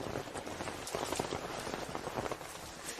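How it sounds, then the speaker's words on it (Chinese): Heavy rain pours down, a dense, close, continuous patter of drops hitting surfaces with no letup. "雨声太大了"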